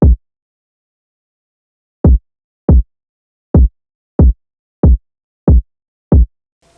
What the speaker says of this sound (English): So I was happy with how the kick pattern sounded.